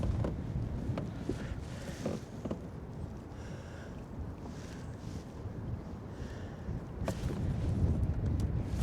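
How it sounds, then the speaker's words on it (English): Strong winter wind buffeting the microphone while kayak fishing on the Great Miami River, a loud continuous rumbling roar with gusty swells and water lapping around the boat. "Dude, this wind is brutal."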